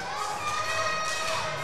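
Dense crowd of fans cheering and shouting steadily in an arena for a men's 73 kg weightlifter at the 2022 Asian Weightlifting Championships, a loud sustained roar with no break.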